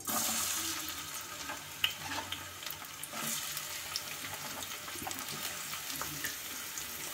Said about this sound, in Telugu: ఇప్పుడు ఆయిల్ అయితే వీటెక్కింది. ఉల్లిపాయలు వేసుకుందాం. ఉల్లిపాయలు, పచ్చిమిరపకాయ ముక్కలు.